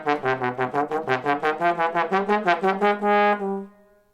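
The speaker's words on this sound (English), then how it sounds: "So here's the theme to Bach's fugue." A brass ensemble plays the theme of Bach's Art of Fugue No. 9 as a quick run of bright, detached notes, then settles on one held final tone. The playing is clear, close and alone, with no voices.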